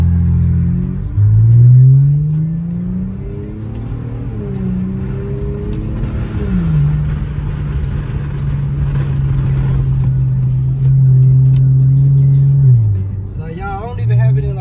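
An Infiniti Q50 with an automatic transmission drives along, its engine tone climbing and dropping repeatedly as the gearbox shifts up by itself, a steady hum heard from inside the cabin.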